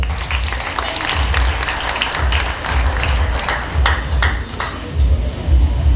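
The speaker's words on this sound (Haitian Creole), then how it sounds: "On applaudit même jury pour moi s'il vous plaît." An audience at a Creole beauty pageant contestant presentation claps loudly and continuously at close range, with sharp ringing tones and a voice over the clapping.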